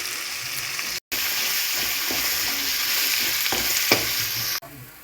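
Garlic, curry leaves, crushed green chillies and turmeric fry in hot oil for mango rice, giving a loud, close crackling sizzle with stirring clatter and a brief cut partway through.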